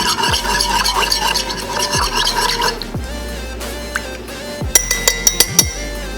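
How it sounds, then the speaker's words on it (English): A spoon stirs honey and ginger into near-boiling water in a cup, swirling steadily for several seconds before a quick run of bright clinks against the rim near the end. No one speaks. "stir it up, get that honey mixed in along with that ginger."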